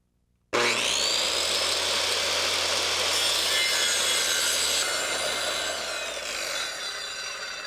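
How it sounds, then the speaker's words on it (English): A circular saw cuts through a wooden stair riser and tread: after a brief silence, a loud, steady, high-pitched whine and rasp of blade through wood runs continuously for about seven seconds, easing slightly near the end, with no talking. "Now, using your circular saw, you want to cut out your riser and your tread."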